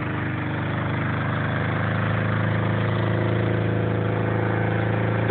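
A vintage 1975 Honda 550 motorcycle engine runs at a steady, throbbing idle, loud and close, with an even mechanical drone throughout and no voices.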